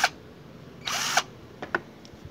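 A new inexpensive reversible power drill runs in one short burst of about a third of a second, loud and close, between a few faint clicks and taps with no talking.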